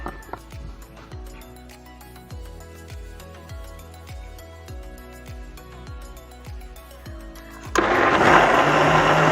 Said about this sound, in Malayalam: നമുക്ക് മിക്സിയിൽ വെച്ച് അടിക്കാം.